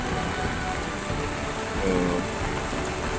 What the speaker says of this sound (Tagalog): grabe na yung lakas ng ulan